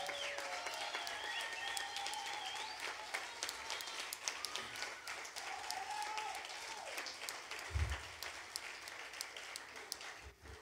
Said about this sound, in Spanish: Fuerte ese aplauso para ellos también.